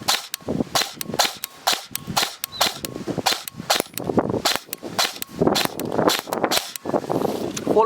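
An airsoft gun fires on full auto in rapid, sharp, close cracks, a dense stream of snapping shots running through the whole stretch with little pause.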